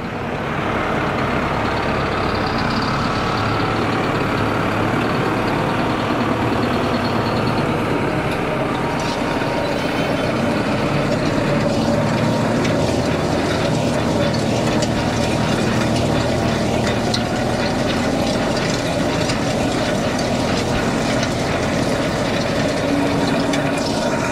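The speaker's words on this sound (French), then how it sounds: "là j'ai un tracteur qui est assez gros" A large tractor drives a corn hoeing implement through a maize field, giving a steady, loud engine drone with mechanical rattling and clanking that continues throughout, with no voices.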